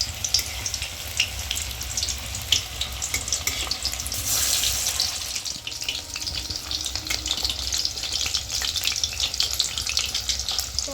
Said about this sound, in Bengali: এবার আমি পকোড়াগুলোকে এক এক করে ভেজে নেব।